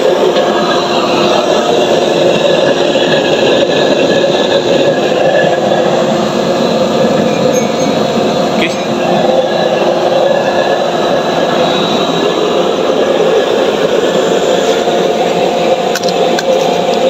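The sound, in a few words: waste oil burner roaring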